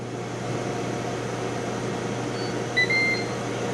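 A Ninja air fryer cooking sweet potato fries runs with a steady fan whir and low hum, and a few short electronic beeps sound near the end.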